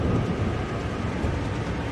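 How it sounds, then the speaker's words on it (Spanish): Thunderstorm in the video game Far Cry Primal, a steady, dense low rumble with rain-like hiss, continuous and loud, with no talk. "Hay tormenta también."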